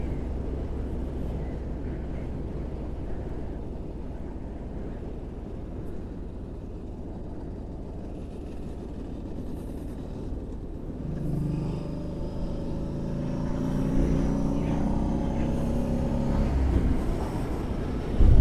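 A motorcycle rides on the SS92 road near the Camastra dam in Basilicata, its low engine rumble steady under wind noise before the engine note rises and grows louder toward the end.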